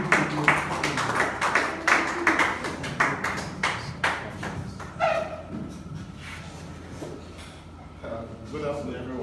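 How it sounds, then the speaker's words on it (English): An audience applauds at a business and career event, a burst of dense clapping that gradually thins and fades, followed by a person beginning to speak. "Please, a round of applause once more."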